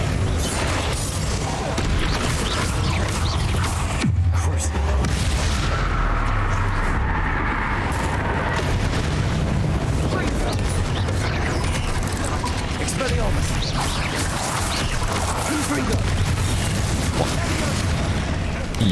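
Explosive Confringo spell blasts in Hogwarts Legacy, heavy booming bursts rumbling through dense, continuous game sound with a voice talking over it.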